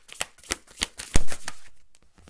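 Tarot cards being shuffled by hand, a quick run of crisp riffling flutters and snaps that ends in one sharp slap, close and alone without talk.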